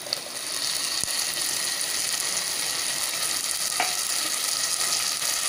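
Ground tomato cooks with garlic and onion in a pan, giving a steady, even sizzle broken by a couple of faint clicks from stirring.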